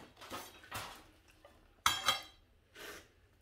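A pot being handled while potting a bonsai, a Big Little John bottlebrush, giving a few quiet scattered knocks and clinks, one sharper hard clank near the middle, close by in a quiet setting.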